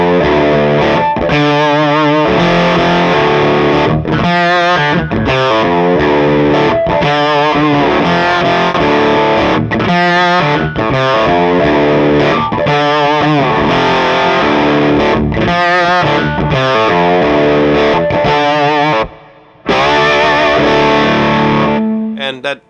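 Distorted electric guitar on its bridge pickup, a Righteous Sound 1018 or Arcane 1978 in a reclaimed pine body, playing loud continuous chords and riffs with brief gaps and no talking.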